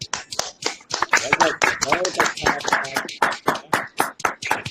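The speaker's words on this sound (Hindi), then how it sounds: "जोरदार तालियां होनी चाहिए डॉक्टर साहब।" An audience claps for a doctor at a morning gathering, the claps arriving in a quick, uneven patter under an excited voice that keeps talking over them.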